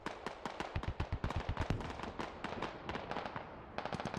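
Gunfire from a rocket technical in the video game Squad, a rapid string of sharp cracking shots in bursts, loud and fairly close, with a brief pause before a final short burst.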